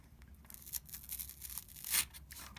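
Paper glued with Yamato starch paste is slowly peeled away from printmaking paper, giving soft crackling tears in short bursts and a sharper rip near the end, quiet and close.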